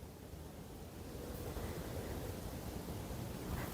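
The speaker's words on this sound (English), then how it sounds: "Look how fast, I don't know if you can see how fast water going in this river." Fast-flowing river water near Brest fortress in Belarus, a steady broadband rush that stays even and fairly loud throughout with no voices over it.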